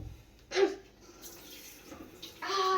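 Cold tap water runs in short bursts while hands are washed in a home kitchen, splashing twice at close range with quiet gaps between.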